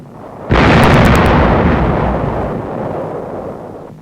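Heavy explosions from naval shelling in a 1945 wartime newsreel, one sudden loud blast followed by a long rumbling roar that slowly fades, with no other sounds over it.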